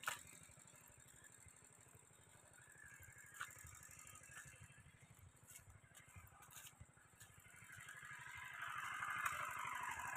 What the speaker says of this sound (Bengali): দেখছি একটা ইঞ্জিন ভ্যান দাঁড়িয়ে আছে, আওয়াজ হচ্ছে।